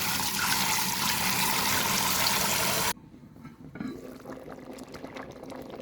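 Rice rinsed in water for Jamaican rice and peas: a loud rush of pouring water for about three seconds, then quieter swishing and trickling.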